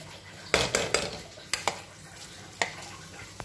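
Cut eggs frying in a pan and being stirred, with several sharp utensil scrapes and clinks against the pan over a low, steady background sizzle.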